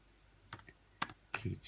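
Keys tapped on a MacBook keyboard in three separate clicks, close and fairly quiet, with soft room noise between them.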